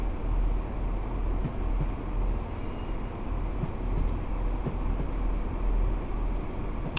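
A train in Train Sim World 4 rolls into Edinburgh Waverley station, giving a steady low rumble with faint clicks of wheels over rail joints, continuous and even throughout.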